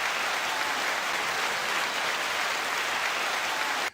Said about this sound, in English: That was a lot of applauses right there